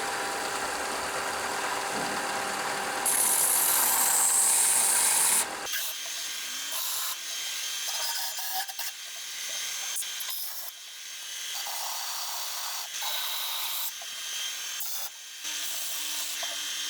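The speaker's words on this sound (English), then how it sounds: "That hand sanding is hard work" Hand sanding a wooden pedal board box, edges and underside, with repeated close rasping strokes in uneven bursts, harsh and dense at the start, then lighter intermittent rubbing.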